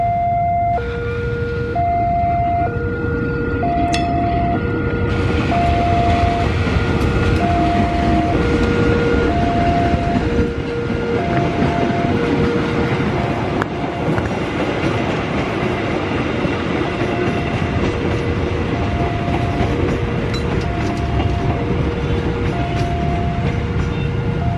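An old, disused, rusty, graffiti-covered train rolls along the rails with a continuous loud rumble and clatter. A repeating two-tone horn or siren sounds at a steady rhythm throughout.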